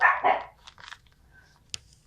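Pet dogs bark indoors, with two quick, loud barks up close followed by softer yips and a sharp single yelp, all within about two seconds, with no talking.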